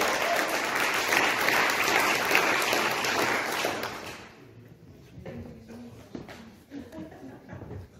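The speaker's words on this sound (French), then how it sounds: "Merci de l'applaudir." Audience at a poetry contest breaks into full, dense applause that lasts about four seconds before fading out, followed by a quieter room with scattered soft sounds and low murmur.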